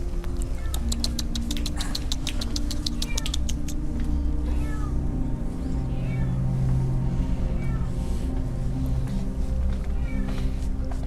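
A cat meows repeatedly and loudly at close range, with a steady low rumble underneath throughout.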